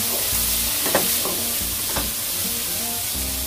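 Sliced red chili being stirred and sautéed in a pan for a corn soup, with a continuous loud sizzle and a few scraping stirs of the utensil, no voices.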